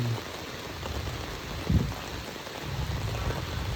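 Heavy rain pouring down at a Buddhist site in the countryside, a continuous broad hiss with a thud partway through, steady and moderately loud, no voices.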